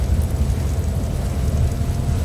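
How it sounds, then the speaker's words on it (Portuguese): Heavy rain pours down during a drive on a slippery road in a driving simulation, with off-road tyres fitted. A dense, steady wash of rain and low rumble fills the whole stretch, with no voices. "Mas tá chovendo muito, gente."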